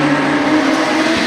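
Production sedans race around the top turn at Moora Speedway in a heat for the Australian title. Several engines roar loudly and steadily at close range, with a faint tyre squeal.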